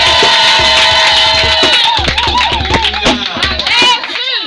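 A church congregation cheering and acclaiming Jesus, a loud crowd of voices shouting and ululating together with some clapping, fading near the end.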